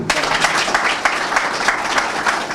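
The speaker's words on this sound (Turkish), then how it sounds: "Buradan bir kez daha alkışlayalım onları." Dense, steady applause from a crowd at a business association general assembly, loud and sustained with no gaps, no voices standing out.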